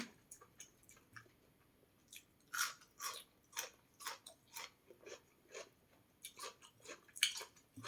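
Close crunchy bites and chewing of pickled asparagus, a dozen or so crisp wet crunches in an uneven rhythm, alone and fairly quiet with no talk.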